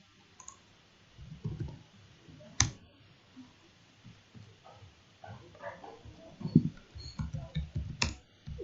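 Keys on a computer keyboard clatter in short irregular bursts while data is entered into an Excel spreadsheet, with a few sharper mouse clicks mixed in, close and fairly quiet.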